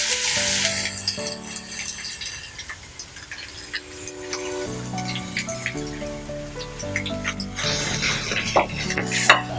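Ginger-garlic paste and onions sizzle in hot oil for Lahore-style keema, a steady crackling fry with bursts of spattering as the paste hits the pan, under background music.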